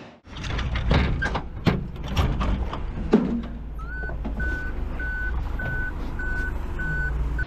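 A flatbed truck reverses with a rhythmic series of loud, evenly spaced backup beeps, following some clunks and door-like bangs at the start.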